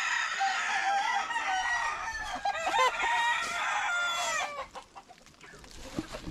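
Chickens and a rooster at a farm, several crows and clucks overlapping nearby and fairly loud, continuing for several seconds before tapering into softer scattered clucking.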